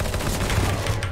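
Rapid automatic gunfire rattles continuously in a first-person shooter video game match, a dense close burst with no pauses.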